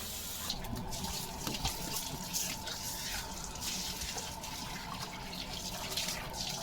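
A garden hose pipe pours a continuous stream of water while a dog named Leo plays in it, the near, steady hiss broken by irregular splashes and gurgles throughout.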